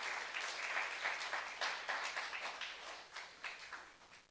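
A church congregation applauds, a faint, distant wash of many hands clapping steadily and fading slightly toward the end.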